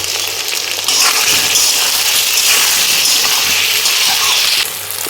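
Boiled taro hits hot oil with potatoes and ginger, setting off a loud, close, bright sizzle that surges, holds for several seconds, then eases.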